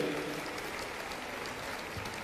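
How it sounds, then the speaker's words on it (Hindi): Applause from an audience at a grand public event for a Delhi pilgrimage scheme, a faint, steady clapping wash heard from a distance without breaks. "इस भव्य आयोजन के लिए तालियां बजाएं"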